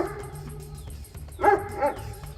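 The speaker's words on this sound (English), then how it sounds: "Yeah, he's kind of a dumb dog, but he's sweet." A dog barks twice in quick succession, close and fairly loud, with a faint whimpering yip around it in a workshop setting.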